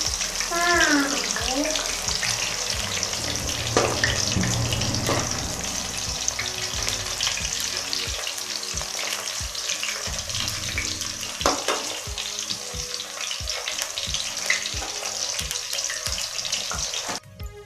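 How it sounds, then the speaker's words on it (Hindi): Bitter gourd pieces half-frying in a pan of oil over medium-low heat make a dense, continuous sizzle and crackle, loud and close, with occasional spoon or utensil knocks. "मीडियम से लो आंच पे आप इसको फ्राई करना है।"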